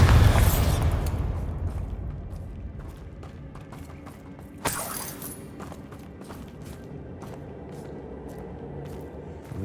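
Confringo and Bombarda spell explosions in the Hogwarts Legacy video game: a heavy boom at the start that fades, then a second sharp blast midway, with scattered pops and clatter after it.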